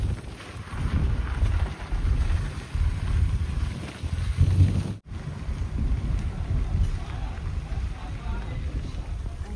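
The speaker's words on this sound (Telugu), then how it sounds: "ఇగో ఎంత చల్లగా గాలి వస్తుందంటే" Cold wind blowing outdoors in a village, buffeting the microphone as a continuous low rumbling roar with gusty surges and a brief cut partway through, loud and close.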